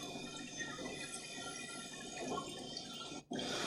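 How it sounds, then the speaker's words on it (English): Water streams steadily from the manifold over the evaporator coil of an Iceomatic CIM0530 ice machine that is not making ice, a constant close splashing trickle with a brief dropout near the end. "I have water flowing out of the water manifold over the coil."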